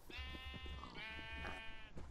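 A Minecraft sheep bleats in two drawn-out, wavering cries, close and clear over a soft background with no talking.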